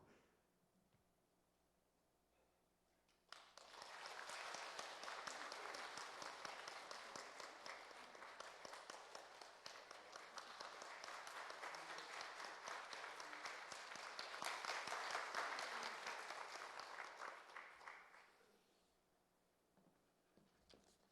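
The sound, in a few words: church congregation applauding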